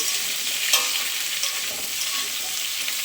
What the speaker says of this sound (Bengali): আলুটা বেশ লাল লাল করে ভাজা হোক